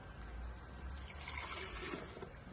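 Filtered water poured into a blender jar for a smoothie, a steady close splashing and gurgling stream heard alone for a couple of seconds.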